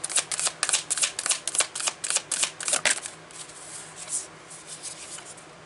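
A tarot card deck is shuffled up close in a rapid run of crisp riffling bursts, then the shuffling softens and trails off near the end, with no voices.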